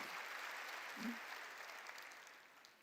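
A church congregation claps steadily during a sermon, a dense, continuous patter of applause, fading slightly toward the end.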